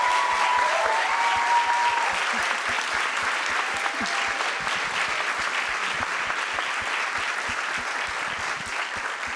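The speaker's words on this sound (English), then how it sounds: "please, one more round of applause." A sustained round of audience applause at a literary book event, thick continuous clapping from a large crowd that holds steady and tapers only slightly over about nine seconds.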